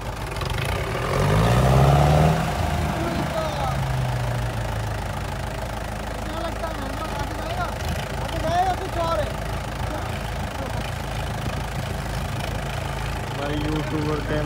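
A heavy tractor engine rumbles and labors steadily climbing a steep slope, rising briefly at the start, with muffled voices and background noise mixed in.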